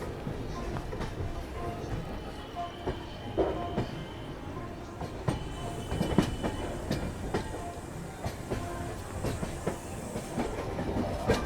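Wheels of the Kolkata–Radhikapur Express rumble and clatter along the rails from on board, with rhythmic clickety-clack over joints beneath a constant rolling roar.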